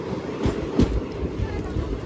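A passenger train moving at a station platform gives off a low rumble with soft, irregular wheel clatter. It sounds fairly close but quiet, with faint background noise.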